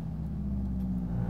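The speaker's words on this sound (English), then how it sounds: "So loud. It just got this muffler, actually, of this exhaust system, imported from Up Garage in Japan." Honda Civic hatch with a Pandem widebody kit and a Up Garage muffler imported from Japan, its exhaust giving a loud, steady low rumble at idle or light throttle, close up and with no talk over it.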